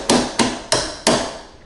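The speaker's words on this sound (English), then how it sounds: "You can use your hammer as well if you have to." A hammer taps a bolt through the tiller piston of a Golden Eagle mobility scooter during repair, four sharp metallic strikes spaced at an even rhythm, loud and close.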